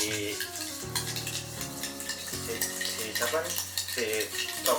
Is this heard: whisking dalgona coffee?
yes